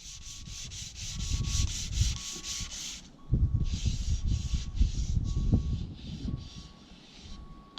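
Steady back-and-forth sanding on a narrowboat toilet fit-out, worked outdoors: close, rhythmic rasping strokes that break off briefly and then resume, with a faint, regular high beep pulsing underneath.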